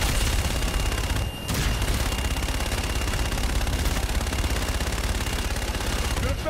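Sustained rapid automatic gunfire from the Call of Duty: Infinite Warfare campaign, Black Sky parade attack, a dense loud barrage that drops out for a split second then continues unbroken.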